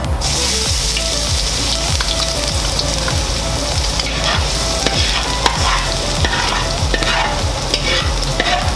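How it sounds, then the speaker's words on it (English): Ginger and garlic frying in a pan for pancit give a steady, close sizzle, with a utensil scraping and stirring in a regular rhythm throughout. "Next, we're gonna add the ginger and the garlic."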